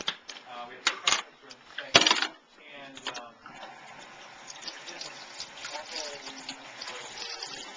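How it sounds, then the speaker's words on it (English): Cold tap water rinses cooked lobster tails in a test kitchen. A steady gush runs against metal and shells, with a few sharp clinks near the start and voices talking over it. "we're going to rinse these off with cold water to stop them from cooking anymore"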